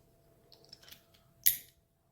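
A single sharp plastic click as a Honda Hornet motorcycle wiring connector snaps into place near the microphone, preceded by faint fiddling and rustling of small parts.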